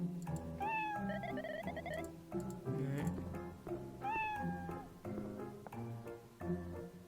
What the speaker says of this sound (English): So you were just a cute cat all along.